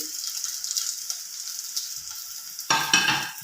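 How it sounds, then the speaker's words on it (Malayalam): Chopped ginger, garlic and onion go into hot oil, a soft high sizzle that suddenly swells into a loud crackling burst near the end, with no one talking. "നമ്മുടെ എണ്ണ ഇവിടെ ചൂടായിട്ടുണ്ട് അതിലോട്ട് ഞാൻ ഈ അരിഞ്ഞ് വെച്ച് ഇഞ്ചി വെളുത്തുള്ളി ഉള്ളി"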